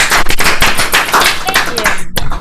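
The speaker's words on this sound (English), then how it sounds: "round of applause for Stacy" A brief burst of applause for Stacy from a room of realtors at a seminar, close, loud claps in an uneven rhythm lasting a couple of seconds.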